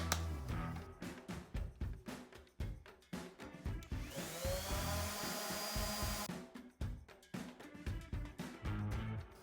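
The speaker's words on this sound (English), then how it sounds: "So I'm gonna swap out my 120 grit for the 220 and do one final sand." A power sander with 220 grit paper works over a wooden cutting board, a broad whirring hiss pulsing with strokes and steadying for a couple of seconds midway.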